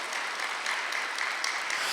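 A church congregation claps together during a Sunday worship service, producing dense, steady applause that fills the room at a constant loudness, with no voices over it.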